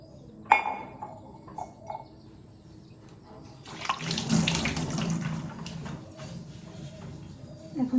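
Tap water runs into a sink, soaking silver and gold jewellery, a steady splashing gush starting after a few knocks and clinks and continuing to the end, fairly close.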